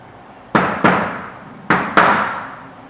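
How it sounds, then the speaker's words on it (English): Four sharp taps from a plastic-and-rubber-faced hammer against a door frame during installation, arriving in two close pairs, each crisp knock ringing briefly and decaying, with nothing else audible. "the hammer I'm using does not have a metal edge on it. It has a plastic side and rubber side."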